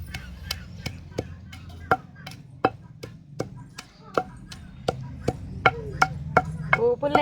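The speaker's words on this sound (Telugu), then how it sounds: "మంచిగా రోట్లు వేసి దంచుకోవాలి." Pestle blows land in a stone mortar, roughly fifteen sharp, hard knocks at an uneven pace, quickening toward the end, over a low steady hum.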